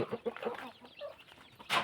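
A breeding rooster of the Ngon Roi type clucks in a rapid run of short, close notes on a farm, ending with a brighter burst of noise.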